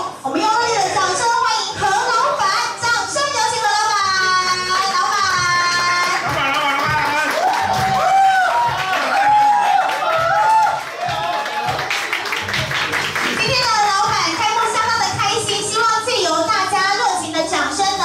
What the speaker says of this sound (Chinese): 我们用热烈的掌声。